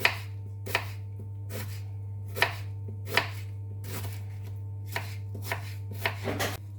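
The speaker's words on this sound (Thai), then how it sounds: "ช่วงที่รอให้น้ำมันร้อนก็มาปอกหอมหั่นไว้" A knife chops shallots on a cutting board in irregular, crisp taps, with a steady low electrical hum underneath.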